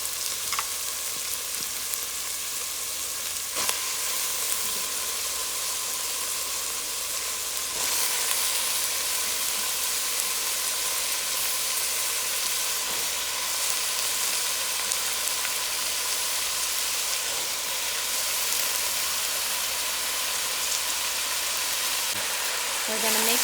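Bora (long beans) fry in a pot with a steady, dense sizzle that runs unbroken throughout, with a few soft clanks of stirring along the way.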